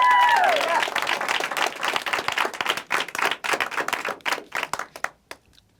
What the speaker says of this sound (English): Let's give them a quick round of applause again